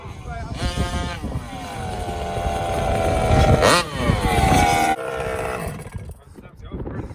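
A 1/5 scale petrol RC car with a 40cc engine and a new loud exhaust pipe revs hard and close, rising and falling in pitch over several bursts, with excited voices talking over it.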